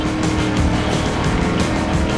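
A Shelby GT-500 muscle car and Audi R8 V10s racing in Driver San Francisco, loud steady engine roar with pulsing revs and close tire noise, no pauses.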